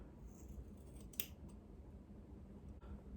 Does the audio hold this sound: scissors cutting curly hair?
yes